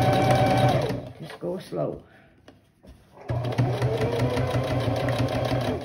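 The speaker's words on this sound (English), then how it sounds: "Now we're sewing this on the top here." A sewing machine stitches a seam on a drum bag in loud bursts of rapid mechanical whirring, pausing in the middle while a person speaks briefly, then running steadily again.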